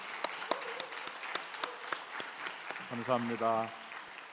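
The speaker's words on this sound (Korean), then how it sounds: "박수합니다" An audience claps at a chapel service after a choir's hymn, scattered crisp claps running through the clip beneath someone speaking into a microphone.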